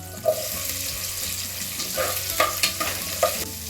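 Chopped onion tipped into a pan with slit green chillies sizzles loudly and close for vangi bath, with stirring scrapes and a few clinks over the steady frying hiss.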